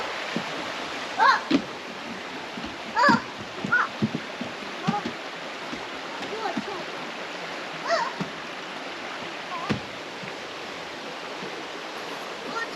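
The waterfall at Dalcairney in Ayrshire roars as a steady broadband rush at moderate distance, continuous throughout while scattered voices and brief knocks rise above it.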